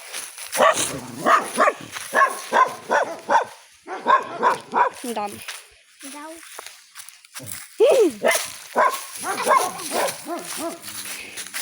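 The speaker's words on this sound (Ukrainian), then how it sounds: "Там у нас собаки гавкають" Dogs bark and yelp in the background, mixed in with ongoing conversation, with a few sharper barks standing out near the end.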